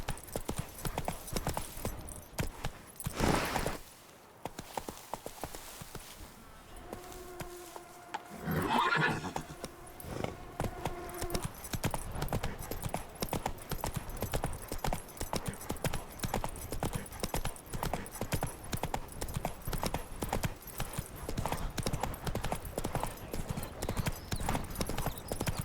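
Roach, a horse in The Witcher 3, gallops with a steady, loud clip-clop of hooves that runs almost the whole time, with a brief whinny partway through and a couple of short gaps.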